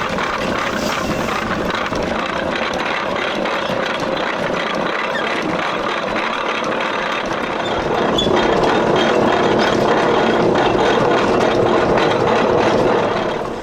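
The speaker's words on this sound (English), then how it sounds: "when we're grinding this stuff, it's going through the grinder and we're ended up with an apple pulp" An old-fashioned cider press grinder chews through apples with a continuous loud, dense mechanical roar and rattle, close by, getting slightly heavier partway through.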